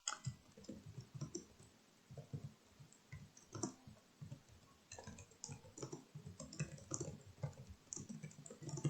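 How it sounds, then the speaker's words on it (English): Computer keyboard typing, rapid irregular clicks and key taps in bursts, close and clear without talking. "Typing as fast as I can because you're all watching."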